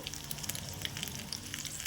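Mustard seeds and crushed garlic fry in hot oil as a tempering for Telangana-style pachi pulusu, making a close, continuous crackling sizzle with dense popping.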